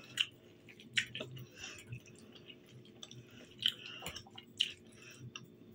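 Wet, squishy chewing of a diet salad with cabbage, heard close to the mouth in soft irregular bites with occasional crisp crunches and no talk.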